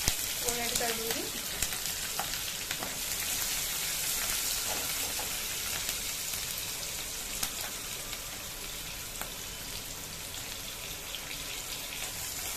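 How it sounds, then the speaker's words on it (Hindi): Green chillies and sliced onion fry in a hot pan of oil with a steady, dense sizzle, broken by small clicks and scrapes from stirring, close up and with no talking. "स्टार्टिंग में हरी मिर्च और प्याज को ऐड कर दूंगी।"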